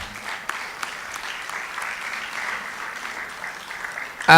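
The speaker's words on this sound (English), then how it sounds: "please put your hands of applause for them" Steady audience applause, a crowd clapping continuously at moderate volume with scattered sharper claps standing out.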